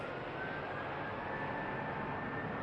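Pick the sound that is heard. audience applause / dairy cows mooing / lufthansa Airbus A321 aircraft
lufthansa Airbus A321 aircraft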